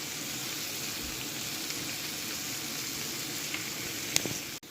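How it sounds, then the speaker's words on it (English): Festival dumplings fry in oil in a pan on the stove, giving a quiet, steady sizzling hiss with a faint clink near the end and no talking. "turn on the stove and make them go and fry"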